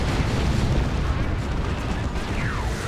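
Rocket run explosions in Dawn of War 2, a Warhammer 40k 3v3 match, land as a dense, loud wash of booming blasts and bursts with a continuous rumble, a voice faintly underneath.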